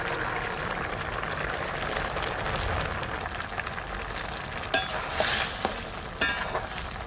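Snake gourd and small fish pieces sizzle steadily in a hot pan, with a few sharp scraping clatters of stirring near the end.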